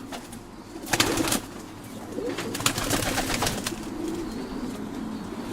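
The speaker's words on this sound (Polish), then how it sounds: "każdym gołębniku powinny być jeden oryginalny gołąb ze sławnej hodowli Luisa Jansen." Racing pigeons coo softly in a loft, low throaty calls layered together, with a brief flutter of wings near the start.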